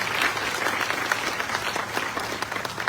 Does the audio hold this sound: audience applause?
yes